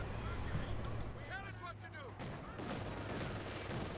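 MG42 machine gun bursts in Company of Heroes 2, rapid rattling fire in the distance mixed with other battlefield gunfire, fairly faint and running under a commentator's voice.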